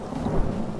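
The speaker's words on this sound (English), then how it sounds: "the weather is rain here?" Rain falls with a low rumble of thunder in the video game Elder Scrolls Online, a brief, steady wash of rain under a soft, distant roll.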